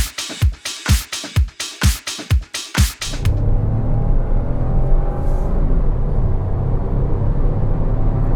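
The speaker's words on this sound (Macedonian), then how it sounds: "Вообичаениот звук на 3 цилиндри, меѓутоа не е толку нападен" A Fiat Grande Panda Hybrid's three-cylinder engine: a run of rhythmic pulsing revs up close, then a steady, fairly loud droning rumble as it settles into cruising.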